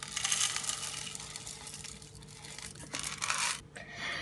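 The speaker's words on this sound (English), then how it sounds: "Grind the cocoa nibs until fine." A small grinder crushing cocoa nibs with sugar gives a loud, continuous gritty whir with crunching texture for about three and a half seconds, then cuts off abruptly.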